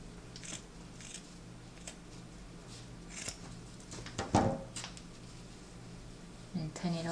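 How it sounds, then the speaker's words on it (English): Scissors snipping sock fabric along a sewing line while making a plush toy, a few quiet crisp cuts spread out with soft handling rustle and a louder snip near the end. "now we're gonna cut it off along the sewing line"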